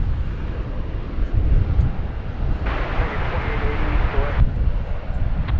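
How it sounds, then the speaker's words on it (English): Airliner taking off from a runway at DFW Airport, a steady broad engine roar that swells in the middle and stays loud throughout, with faint radio chatter underneath. "It's an 11-year-old aircraft, and we're about to see the last of it here on runway DFW."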